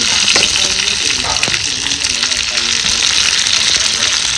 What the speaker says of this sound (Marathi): आता ही मसाला भरून घेतलेली वांगी आता आपल्याला ह्याच्यात एक एक करून सोडायची